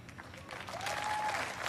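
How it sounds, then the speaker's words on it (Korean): Convention crowd applauding at the Republican National Convention after a line in Mike Pence's acceptance speech, a fairly faint, distant wash of clapping that swells toward the end with a brief voice over it. "사람들이 박수를 많이 치고 있는데"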